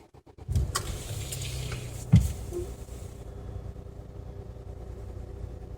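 A Hyundai Tucson ix starts up with two sharp cranking thumps, then settles into a low, steady idle rumble heard from inside the car.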